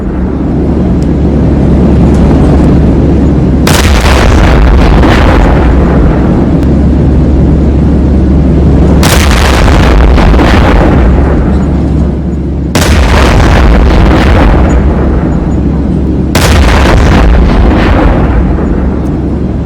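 Heavy blasts destroy a Pakistani army vehicle, with four loud, broadband bursts rolling out one after another over a constant low rumble of engines or wind, no voices.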